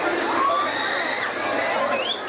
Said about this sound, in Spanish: El aplauso de Júpiter a su reina